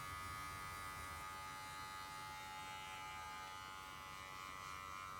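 Electric hair clippers fitted with a 1.5 clipper comb buzz steadily and close up during a home haircut, a continuous motor hum with no pauses and no talking.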